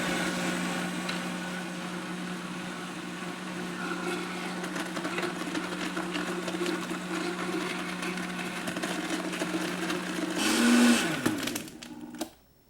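A blender whips up a raw cacao smoothie with ice, its motor whining at a steady pitch for about ten seconds, then surging and winding down before cutting off abruptly near the end.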